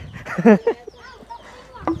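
Chickens cluck and squawk nearby in a few short bursts, followed by softer scattered clucks and a brief louder call near the end.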